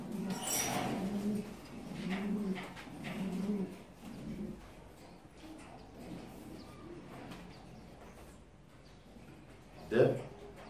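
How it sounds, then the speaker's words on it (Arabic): Soft, low coos from a French meat pigeon roll out in a short series, close by, over a faint background murmur, followed by a brief louder bump near the end. "فرد حمام لاحم فرنساوي"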